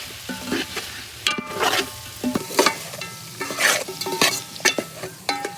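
Spices such as turmeric, red chili, coarse coriander and cumin are stirred and sizzling in a pot, with scraping spoon strokes and bursts of frying hiss in an irregular rhythm, close and fairly loud, without talk.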